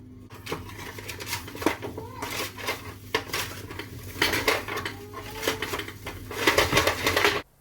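Metallic scraping and clattering of chips being turned on a metal oven tray, in irregular bursts, close by.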